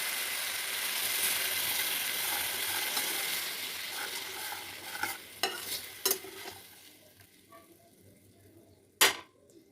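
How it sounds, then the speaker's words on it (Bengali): Spice paste of turmeric, chilli powder, salt and tomato paste frying in a pan, hissing steadily and loudly at first, then fading, with a few sharp scraping clicks of stirring and one loud clank near the end. "মশলাটা আমার ফ্রাই হয়ে গেছে"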